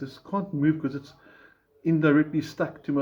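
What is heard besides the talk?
No everyday noises stand out.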